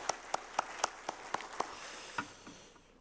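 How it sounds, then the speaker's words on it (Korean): A church congregation at a Sunday service gives a burst of applause, with sharp separate claps spaced through the first half that thin out and fade toward the end. "감사 영광의 박수 돌려드립시다"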